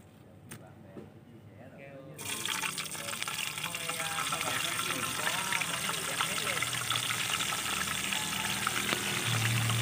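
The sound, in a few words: frying mud crabs in hot oil in a pan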